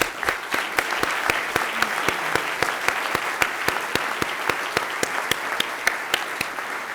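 An audience claps steadily in a large lecture hall, a dense, even round of applause with sharp individual hand claps standing out near the microphone, holding at full strength throughout.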